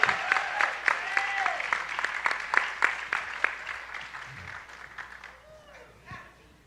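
A modest audience at a health discussion panel gives a round of applause, individual claps distinct and fairly close, some talking mixed in, thinning out toward the end.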